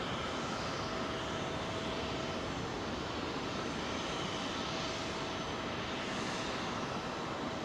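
A Japan Airlines jet roars past at London Heathrow on runway 27L, a loud, sustained engine rumble that swells and holds throughout without talk.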